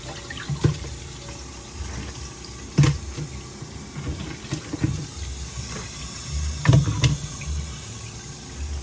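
Tap water runs while ingredients for a yellow taro sauce are washed, giving an unsteady splashing and trickling with occasional louder sloshes and knocks, close and moderately quiet, with no talking.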